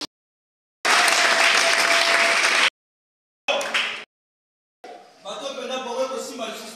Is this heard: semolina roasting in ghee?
no